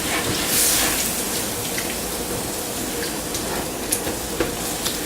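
Shrimp stir-fry stirred in a hot pan with soy and Worcestershire sauce, making a loud continuous sizzle and wet spattering crackle with a few sharper clinks of the utensil near the end.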